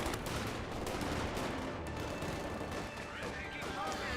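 Thompson submachine gun fire in the strategy video game Company of Heroes 2 crackles in dense rapid bursts amid other mixed battlefield gunfire, while a commentator talks over the action.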